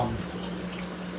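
Water pouring steadily from a Hygger hang-on canister filter into an aquarium, a continuous trickling splash heard close and alone, with a faint hum beneath.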